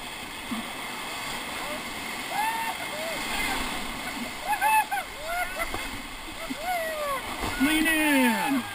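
Whitewater rapids splash and churn around a river raft, with steady rushing water and bursts of spray, while rafters shout and call out over the noise.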